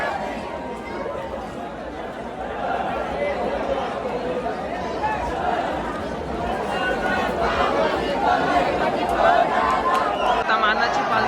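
Dense chatter of a large crowd of pilgrims at the Ekvira temple festival, many overlapping voices close by forming a continuous hubbub that swells slightly toward the end.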